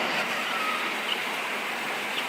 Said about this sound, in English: that's what happens with rain on a metal roof